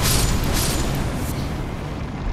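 A loud, broad blast from an explosion in the video game Elden Ring, a dense roaring burst that fills the clip and slowly trails off with rumbling debris.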